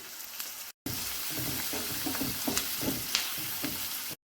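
Capsicum and green chillies stir-fry in a pan for a street-stall style kothu parotta, giving a continuous sizzle with soft scraping stirs. No one speaks.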